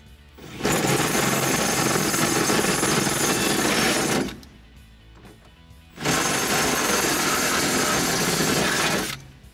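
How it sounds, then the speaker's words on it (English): A power drill with a half-inch bit whines loudly in two long sustained runs, each about four seconds, separated by a short quiet pause, drilling a 2005-2014 Mustang coupe chassis for a rear X-brace. "Now we're stepping up to our 1/2-inch drill bit."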